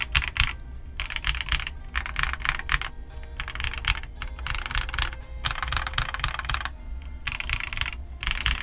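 Typing on an XVX K80 mechanical keyboard, a steady stream of close, clacky keystrokes in bursts separated by brief pauses, with no voices.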